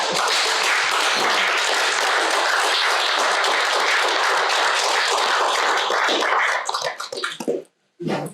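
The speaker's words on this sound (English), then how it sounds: "I think that deserves a round of applause." A council-meeting audience in Reidsville gives loud, continuous applause that fills the room, then tapers into scattered claps before a short silence and a last burst.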